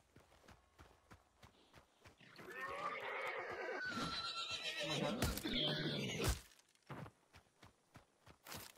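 A horse in the video game Hunt: Showdown 1896 lets out a loud, drawn-out whinny lasting several seconds, framed by rhythmic clip-clop hoofbeats before and after.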